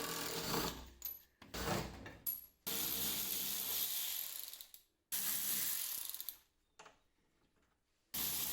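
Ratchet working loose the front anti-roll bar on a Honda Beat, with long runs of fast, dense clicking close up, stopping and restarting several times.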